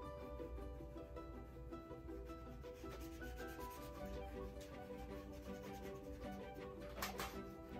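An eraser rubs out pencil lines on paper in soft, close, repeated scratchy strokes at a quiet, even level, with no talking.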